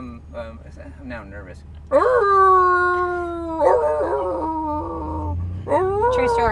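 A person mimics a hound dog's howl, drawing out long wavering vocal tones that rise and fall over a couple of seconds, with brief conversational talk before and a second howl-like burst near the end.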